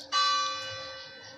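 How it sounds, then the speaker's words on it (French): A small church bell strikes the 6 pm hour, one clear ringing stroke that rises sharply and then hangs in a long, slowly fading shimmer, close and fairly loud. "la petite cloche des 18h"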